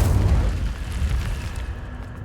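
An Incendio fire spell cast in Hogwarts Legacy, a loud low booming whoosh of flame that bursts at once and then fades over a couple of seconds.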